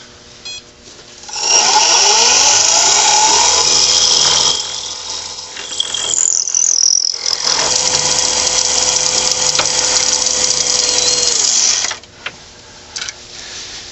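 A power drill whines loudly as it bores into wood, running steadily for several seconds with a short pause midway before continuing, then stopping.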